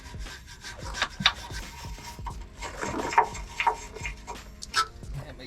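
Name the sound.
brushing old dry grease out of Tacoma control arm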